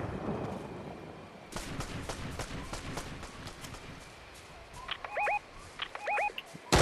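Gunfire in a squad shootout video game, with a run of sharp, fairly faint shots at an uneven pace, followed by a few quick high electronic beeps and a final loud crack at the end.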